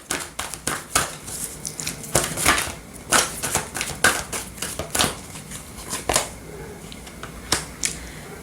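Oracle cards are shuffled for a tarot reading, a steady series of crisp papery slaps and riffles repeating roughly every half second, close and clear with no talking.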